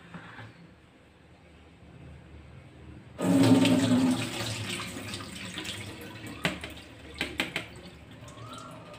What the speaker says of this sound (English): Let the water drip finish.